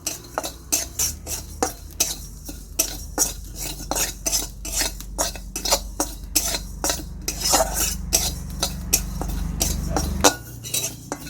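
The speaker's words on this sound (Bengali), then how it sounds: "মশলাটাকে আমি হালকা নেড়ে চেড়ে নেব।" Rapid, rhythmic scraping and clinking of a utensil stirring whole cumin and coriander seeds roasting dry in a metal pan, continuous and close, with a low hum underneath.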